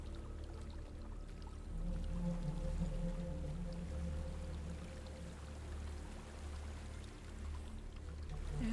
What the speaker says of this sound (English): There's a waterfall.